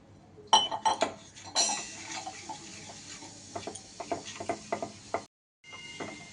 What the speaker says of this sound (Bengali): এবার সব উপকরণগুলো একটু মিশিয়ে নিয়ে অল্প অল্প করে জল দিয়ে একটা